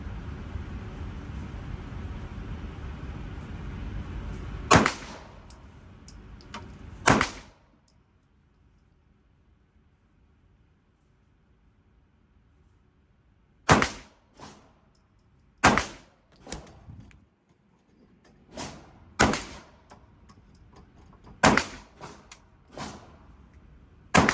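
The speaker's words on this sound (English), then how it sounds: "10 rounds with the 365 X Macro, FDEZWERX slide and barrel. Ten rounds, no time standard." A SIG P365 X Macro pistol with an FDEZWERX slide and barrel fires ten rounds at a B8 target 75 yards downrange, sharp loud cracks spaced unevenly over about twenty seconds after a brief stretch of rustling background noise.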